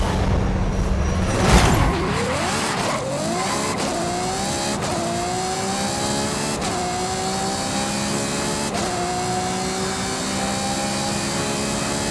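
A 2018 Ferrari Portofino engine in the racing game Forza Horizon 5 roars loud and close, with a burst of tire noise early on, then revs climbing through gear shifts as the car accelerates hard.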